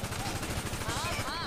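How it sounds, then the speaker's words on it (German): Rapid gunfire from a gun in GTA 5 Online rattles in a steady, loud burst of dense shots, with a faint voice briefly under it. "Ich schieße nochmal auf."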